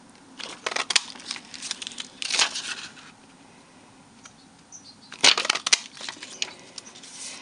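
A pansy-shaped paper punch cuts flowers out of embossed vellum, giving several sharp crunching snaps in two clusters with quiet handling and rustling between them, close up with no speech.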